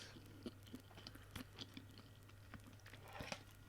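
Someone eats a fried dumpling topped with ackee and saltfish, close and quiet, with soft, irregular crunchy chews and bites over a faint steady hum.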